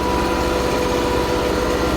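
Tractor engine running steadily at about 1000 rpm while pulling a cultivator through a field, a loud continuous drone with no pauses.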